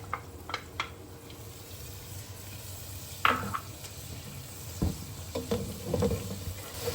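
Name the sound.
ginger garlic paste frying with browned onions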